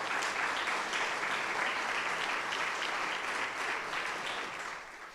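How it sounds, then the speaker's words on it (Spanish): A church congregation claps in praise during a Spanish-language worship service, a dense, sustained round of applause from many hands that fades slightly toward the end. "Dele palmas al Señor"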